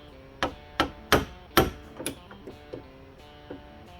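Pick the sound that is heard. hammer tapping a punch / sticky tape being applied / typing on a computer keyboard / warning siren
hammer tapping a punch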